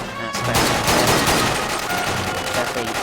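Automatic gunfire in the Quantum of Solace James Bond shooter game on Xbox 360, a dense continuous burst of rapid shots filling the clip at steady loudness, with some game noise around it.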